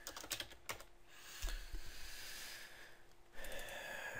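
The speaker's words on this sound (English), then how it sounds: "I'm gonna type in the city." Typing on a computer keyboard: a short, quiet burst of key clicks, then a pause with soft background hiss, and a few more light taps near the end.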